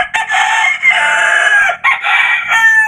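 A rooster crows in long, loud drawn-out calls, with a brief break between them, close by and with no voices.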